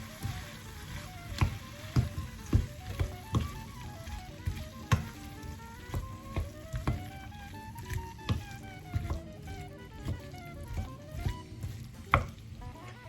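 Sliced bell peppers sizzle steadily in a hot pan while a utensil stirs them, with soft scraping and clacking strokes coming at a loose, regular rhythm close by and no talking.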